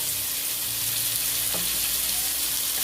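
Capsicum and carrot being stirred in a hot pan, a steady broadband sizzle with a brief spatula scrape, continuous and close, no talking.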